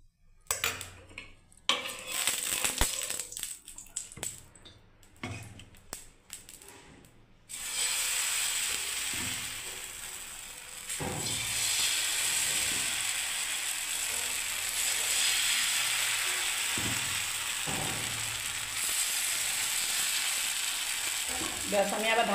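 Batter flatbread frying in a little oil on a pan: a steady, close sizzle sets in after some scraping and clattering of utensils, with occasional soft scrapes and knocks over the hiss.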